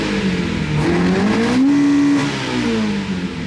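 A Honda-powered drift car engine revs hard, its loud, rising mechanical wail climbing in pitch, then easing back, close and alone with no voices.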